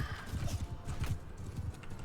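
Horse hooves pounding in a fast gallop in the medieval combat game Mount & Blade II, a quiet steady clatter of repeated hoofbeats with no voices over it.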